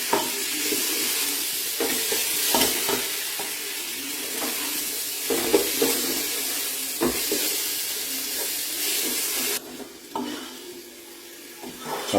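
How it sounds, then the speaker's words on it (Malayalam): Garam masala and pepper powder fry in a pan for soya chunk fry, a steady sizzle with repeated scraping and tapping as a spoon stirs the spices, close and even, easing off and quieter near the end, with no talking. "മസാലയുടെ പച്ച മണം മാറുന്ന നേരം ഇളക്കി കൊടുക്കാം"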